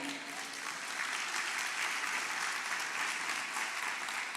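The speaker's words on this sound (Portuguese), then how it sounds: "Dê um aplauso a ele." A church congregation breaks into sustained applause during a worship service, a dense, even roar of many hands clapping together, steady and full from start to finish with no speech over it.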